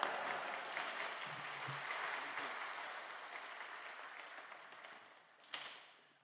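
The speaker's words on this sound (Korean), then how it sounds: "큰 박수로 목사님 맞이하도록 하겠습니다." A church congregation at a Yoido Full Gospel Church dawn worship service applauds to welcome a visiting pastor. The clapping is steady and full for several seconds, then thins out and fades with a final scattered burst.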